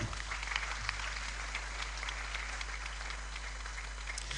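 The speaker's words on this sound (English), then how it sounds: "with a huge round of applause, help me welcome Mr. Austin Game." An audience at a church conference hall in Tema, Ghana gives a faint, steady round of applause, with continuous light clapping and no speech over it.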